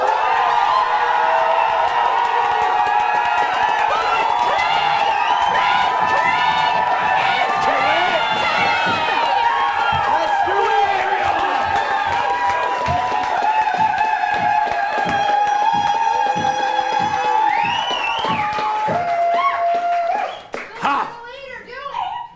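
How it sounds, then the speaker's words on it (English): A live audience cheers and shouts together during a fantasy storytelling show, a dense sustained roar of voices and whoops that fills the space before breaking off near the end. "Whatever words come to your heart, cheer for them."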